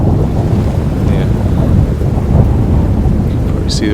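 Steady heavy rain pours over an outdoor scene beneath dark skies, with low rolling thunder rumbling continuously through the downpour and a brief brighter spatter near the end.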